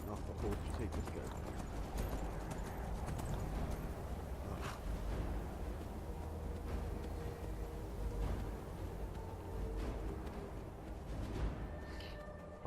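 Rhythmic horse hoofbeats pound steadily in a fast gallop in Skyrim on PS4, with game ambience and a voice talking over the top.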